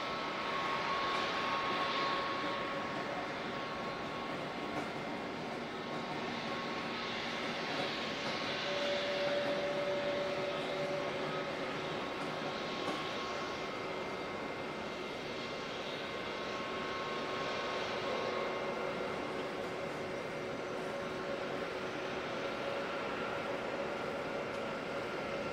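Aircraft engine noise at Auckland Airport on a foggy day, a continuous broad roar with a faint steady whine, swelling and easing gently as it carries across the airfield.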